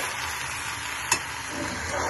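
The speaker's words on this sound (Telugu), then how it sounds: "వంకాయ ముక్కలు కూడా వేసుకుని ఫ్రై అవ్వాలి." Brinjal pieces and guar beans fry in a pan with a steady, quiet sizzle, broken by one short stirring clatter midway.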